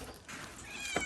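A cat gives one short, fairly faint meow, heard close by and alone.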